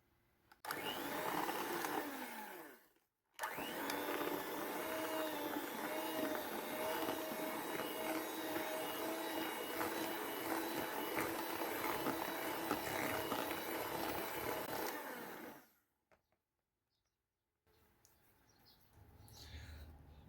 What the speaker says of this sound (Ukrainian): І на маленьких оборотах міксера перемішую до однорідності.